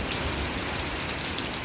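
Heavy rain from Hurricane Beryl in Jamaica, heard from a veranda, pours down as a dense, loud, unbroken roar of drops on surfaces with no talk.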